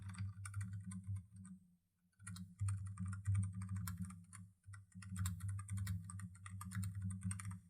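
Quiet keystrokes clatter on a computer keyboard while text is entered in Canva, coming in short bursts separated by brief pauses over a low background hum.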